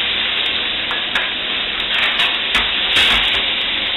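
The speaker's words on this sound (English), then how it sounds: "put all the meat in the pan." Meat for paella valenciana frying in a wide pan, a loud close sizzle with stirring scrapes and clatter, swelling briefly near the end, no voices.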